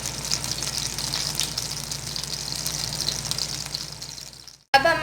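Chopped garlic lightly frying in a tablespoon of oil gives a steady, close sizzle that runs unbroken, then cuts off briefly near the end.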